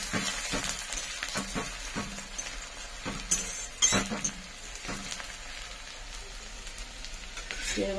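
Onions frying in a pan for egg tehari, a steady close sizzle punctuated by repeated stirring scrapes and metallic clinks of a spatula against the pan, with one louder clatter midway and no speech.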